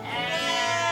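Garut sheep lets out a single loud, wavering bleat up close, a buzzy drawn-out cry lasting about a second with no talking over it.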